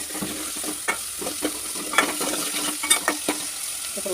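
Onions with salt in a frying pan, sizzling steadily at close range while a spoon stirs and scrapes in repeated strokes, with no talk.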